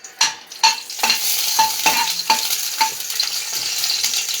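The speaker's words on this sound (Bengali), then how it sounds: "5 ফোড়নের জন্য আমরা দিচ্ছি, প্রথমে 2টো শুকনো লঙ্কা দিলাম।" Two dried red chillies fry in Amul ghee as tempering for toor dal, with a steady close sizzle and about eight sharp scrapes of stirring spaced about half a second apart. No one speaks.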